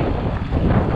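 Strong outdoor wind buffets the microphone during an e-bike ride in the UK, a loud, continuous low rumbling roar with no clear talking.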